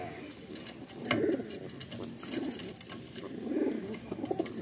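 Giribaj pigeons coo in a loft, about three low rolling coo phrases rising and falling close by over a faint background hum.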